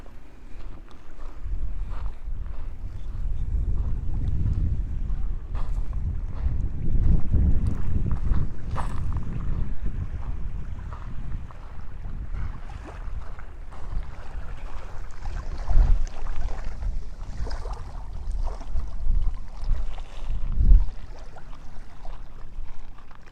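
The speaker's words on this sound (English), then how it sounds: "I don't know if you guys just hear the wind or if you can hear the sound of the ocean" Blustery wind buffets the microphone at a beach, with a low rolling wash of ocean waves beneath, swelling and easing in uneven surges with a few sharper gusts.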